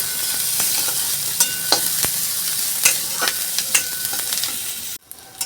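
Onion and chili fry in a pan with a bright, constant sizzle and several sharp scraping strokes of a spatula, close and loud, cutting off abruptly near the end.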